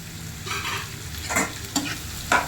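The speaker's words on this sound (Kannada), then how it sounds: "ಈ ಟೊಮೊಟೊನೂ ಅಷ್ಟೇ ಸ್ವಲ್ಪ ಮೆತ್ತಗಾಗೋವರೆಗೂ ಉಟ್ಕೊಳ್ಬೇಕು" Tomato fries in oil in a pan for bisi bele bath, a soft sizzle underneath and several scraping stirs of a spoon close by, with no talking.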